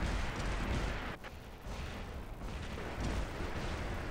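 Airstrike explosions in the War Robots video game, a dense, continuous rumble of heavy booms that rolls on for several seconds, dipping briefly before building again, loud and close.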